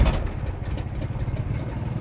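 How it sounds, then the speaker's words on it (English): Generator running under the body of a 2021 Winnebago Solis 59PX RV, a steady low mechanical drone with a faint clatter, close and constant with no talk. "So the generator is mounted under here."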